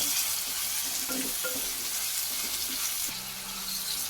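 Onions and tomatoes fry in a pan for a birakaya (ridge gourd) curry, giving a continuous close sizzle with stirring scrapes and a brief watery splash near the end.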